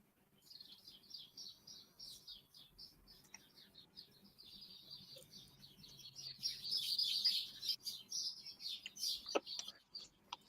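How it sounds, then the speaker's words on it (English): Sparrows chirp in rapid, high twittering bursts, growing busier midway, heard faintly from outdoors with a quiet background. "You can probably hear the sparrows just"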